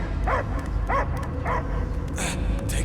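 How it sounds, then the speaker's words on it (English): A dog barks in the video game Marvel's Guardians of the Galaxy, several short barks and yips at a steady pace, close and loud over a low game rumble. "I hear only barking."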